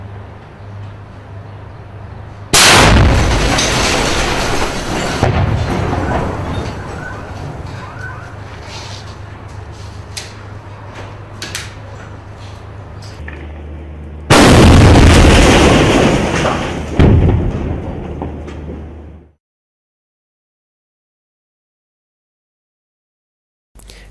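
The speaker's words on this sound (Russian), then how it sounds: "Позиция выстрелившего снайпера обнаружена, и по ней немедленно открывается огонь." Combat in Qaboun: heavy booming blasts of artillery and gunfire, two loud impacts standing out over a rumbling, crackling background before the sound cuts to silence.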